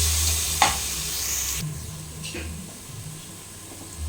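Mutton head curry being stirred in a pan with ginger, a steady frying hiss broken by a couple of sharp spoon scrapes against the pan, close and moderately loud, with no voices.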